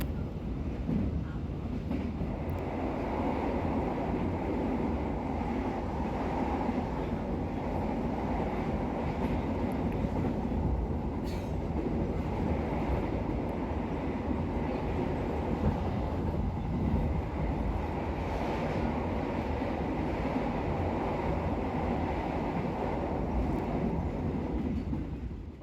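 Gaya Baru Malam Selatan train running on rails from Solo toward Jakarta, a steady rumbling ride with rhythmic wheel clatter and occasional sharper squeals, continuous and fairly even throughout.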